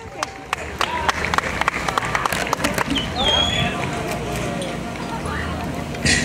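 A family audience at a 2018 telesecundaria graduation in Duarte claps, starting with scattered sharp claps and thickening into steady applause amid crowd noise.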